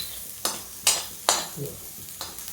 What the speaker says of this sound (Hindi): अब इसके साथ मेथी भी तड़क जाएगी धीमे धीमे।